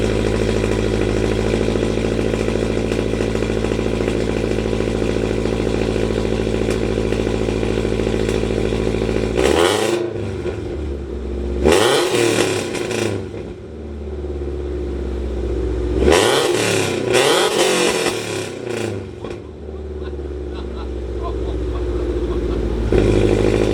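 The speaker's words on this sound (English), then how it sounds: "We're gonna start the car and see how the car sounds" A 2022 Toyota GR86/Subaru BRZ with a full aftermarket exhaust idles with a loud, raspy drone, then fires off several sharp revs that climb and drop in quick bursts before settling back to idle.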